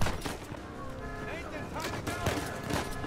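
Gunfire in the video game Uncharted 4, with repeated shots cracking through a dense, busy game soundtrack while a player talks over it throughout.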